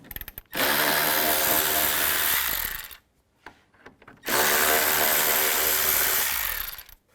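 Power tool with a T30 socket driving out cover screws on a 2004-08 BMW X3 in the engine bay, two loud sustained whirring runs of about two and three seconds with a brief quiet, clattering gap between.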